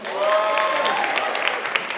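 A studio audience claps briefly in a show-of-hands style vote, a short burst of scattered applause that swells and then thins out over about two seconds.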